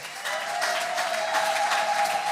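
Women in a Sunday church congregation break into brisk, steady applause. It is loud and sustained, with a high tone held underneath.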